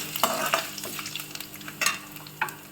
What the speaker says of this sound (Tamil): கருவேப்பிலை போட்டுக்கணும் தெரிக்கும்